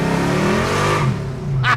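A 1970 Mercury Cyclone with a Boss 429 V8 revs hard nearby, a loud deep roar that climbs and swells through the short burst.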